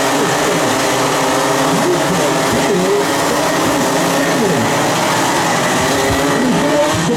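At the start of a BNL Winter Trophy race in Genk, a field of race cars roars past in a loud, continuous wall of engine noise, with overlapping engines rising and falling in pitch.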